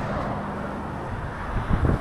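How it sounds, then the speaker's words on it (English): Wind buffets the microphone outdoors at a motorcycle stop, a steady, low rumbling roar growing gustier and louder toward the end. "sorry it's a little bit windy"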